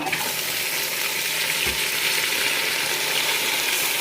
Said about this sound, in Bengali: পেঁয়াজ রসুন মরিচ তারপর মশলাপাতি যা দেওয়ার কষাই নিছি আর এই যে হয়েছে মাংসটা